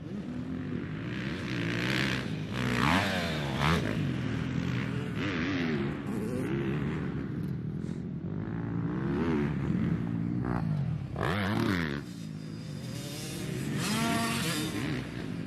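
Dirt bikes riding on a custom track with professional riders, their engines droning and revving continuously, with passing bikes rising and falling in pitch at moderate distance.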